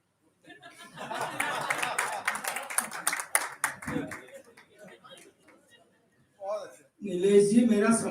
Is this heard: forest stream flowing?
no